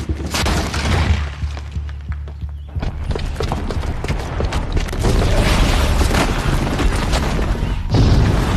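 A booby-trapped bomb blows up in a video game, a heavy booming blast that rolls into sustained rumbling and debris noise, loud and filling the scene with little speech.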